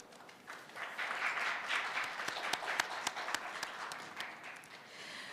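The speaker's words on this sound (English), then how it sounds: "please give all of our three hosts and distinguished guests a very big round of applause" Audience applause for hosts and distinguished guests at the close of an opening session on public communication, a steady dense wash of many hands clapping for about five seconds, sharper claps standing out near the end.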